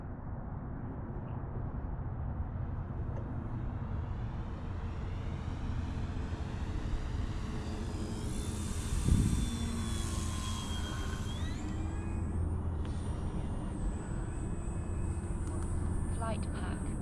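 Extreme Flight Laser 60-inch RC airplane with a T-Motor AM600 electric power system flying on a cold, below-freezing day, a steady whine with rising and falling pitch as it passes, over wind noise; a voice is faintly heard.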